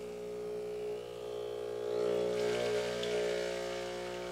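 A Breville Barista Express espresso machine pumps its first shot, a steady mechanical hum with strong harmonic tones and a rising hiss of liquid flow midway, close and continuous with no talk.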